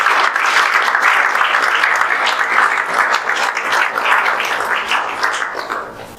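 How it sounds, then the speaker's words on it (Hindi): Loud, sustained applause from an audience honouring a student's JEE Main all-India rank of 377, dense clapping that runs steadily for about six seconds and tapers slightly at the end. "जोरदार तालियां बजा दीजिए।"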